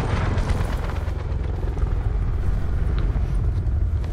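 A helicopter in a video game on the factory map gives off a steady, loud rotor and engine rumble that holds without a break, with no talking over it.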